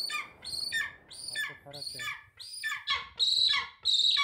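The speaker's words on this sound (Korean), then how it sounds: "검독수리 울음소리는 처음 듣는다." A golden eagle kept for hunting in wintry Kyrgyzstan gives about eight shrill, screeching calls in a row, close and loud, each separated by a brief pause.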